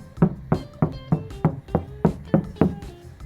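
A door on a 1969 Chevrolet C-10 restomod truck is shut eight times in a steady rhythm, each a solid, close, dull thunk.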